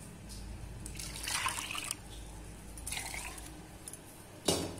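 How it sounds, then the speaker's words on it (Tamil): A tumbler of water is poured into ground cottonseed while making cottonseed milk: soft, close splashing and trickling in short bursts, with a final louder splash. "இப்போ நான் வந்து இது பால் எடுக்கிற அளவுக்கு ஒரு டம்ளர் தண்ணி ஊற்ற போகிறேன்."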